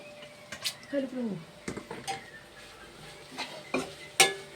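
A spoon clinks and scrapes against a pan while prawn curry is stirred, giving sparse metallic taps and short scrapes at moderate volume, with someone speaking between them.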